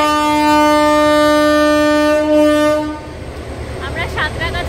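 A passenger train on the Digha–Santragachi run sounds a long, loud, steady horn blast for about three seconds while pulling into Santragachi station, then the horn cuts off, leaving rumbling rail noise and faint squeaks.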